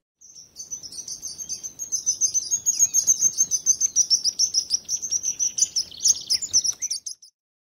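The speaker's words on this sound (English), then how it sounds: "Sparrow." A sparrow chirps in a rapid, steady run of high, sharp notes, fairly close and loud, continuing for several seconds against a quiet background.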